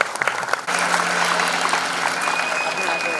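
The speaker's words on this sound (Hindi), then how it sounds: "जोरदार तालियां बरकरार आनंद के लिए" Audience applause at a live stage event, a dense continuous wash of clapping from a crowd, fairly loud and near, rising after a brief opening moment and holding steady throughout, with voices talking over it.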